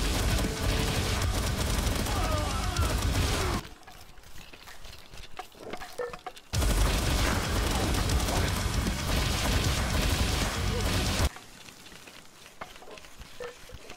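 Rapid automatic assault rifle fire in Palworld, a dense loud crackling burst lasting several seconds, pausing, then a second long sustained burst, with quieter game ambience in the gaps.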